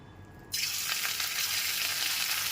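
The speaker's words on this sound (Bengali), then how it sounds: "তেলটা এখানে খুব ভালো মতো গরম হয়ে গেছে এবার ম্যারিনেট করা চিকেনের পিসগুলোকে দিয়ে দিচ্ছি" Marinated chicken pieces dropped into well-heated white oil for butter garlic chicken fry burst into a loud, continuous sizzle after a brief quiet moment, crackling steadily close up.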